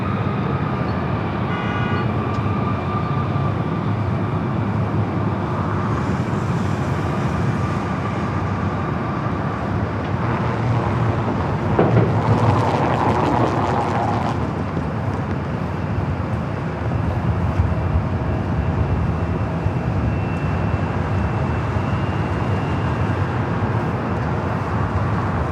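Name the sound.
airliner taking off from LAX south side runway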